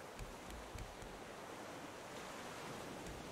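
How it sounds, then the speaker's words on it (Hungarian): Sea waves in the Raft survival video game make a faint, steady wash of surf and wind-like noise with soft low thumps, and no voices over it. "hullámzik itt rendesen a tenger"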